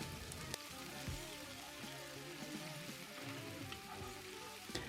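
Vinegar cooking down in a pan with sautéed garlic and ginger, giving a soft, steady sizzle with faint crackles, quiet and close, with no voices.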